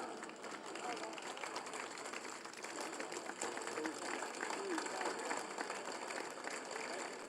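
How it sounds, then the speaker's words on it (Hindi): Sustained applause from a large audience at a Hindi-Urdu poetry recital, steady and dense throughout, with a murmur of voices mixed in. "आप सबकी भरपूर तालियों में"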